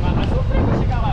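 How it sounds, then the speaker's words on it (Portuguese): Strong wind at sea roars across the microphone in a dense, continuous rumble while swimming in open water toward a deserted island, loud and close. "o vento tá muito forte"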